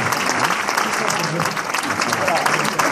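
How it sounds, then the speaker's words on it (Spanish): An audience at a comedy show in Vilafranca del Penedès bursts into dense, sustained applause, close and loud for the full three seconds, with voices faintly mixed in. "Amigos, recibid un aplauso."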